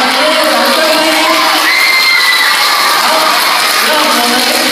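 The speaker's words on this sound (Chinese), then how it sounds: "我们热烈掌声欢迎。" A school crowd of adults and children cheers, whoops and shouts loudly and continuously to welcome the principal onstage, a dense steady roar with scattered high shrieks.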